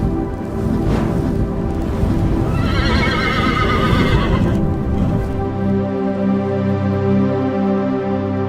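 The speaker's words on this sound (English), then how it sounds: "every time that horse looks at me, I think he's trying to pick a fight" A horse gives a loud, close whinny that rises and shakes in the middle, with scuffing and stamping around it before and after.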